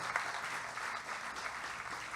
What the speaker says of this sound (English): I want you all to just give Sly a big round of applause